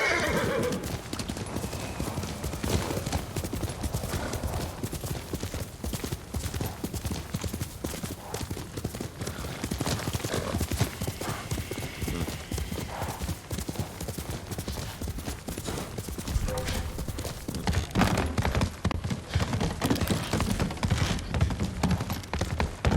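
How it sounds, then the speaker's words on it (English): Horse hooves clip-clop in a rapid galloping rhythm in the Ghost of Tsushima video game, loud and close, with neighs and whinnies mixed in over steady background game sound. "Horse!"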